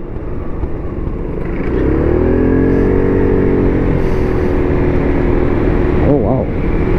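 A Gilera Runner ST200 scooter engine drones steadily while riding through Singapore, building from a lower hum into a louder sustained whine with shifting pitch and a brief warble near the end, wind noise underneath.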